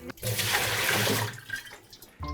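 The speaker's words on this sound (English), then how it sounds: "Just drain them thoroughly." Cooked noodles drained from a bowl of cold water, a loud continuous splashing pour of water for about a second and a half, tapering into scattered drips and trickles before a final clatter.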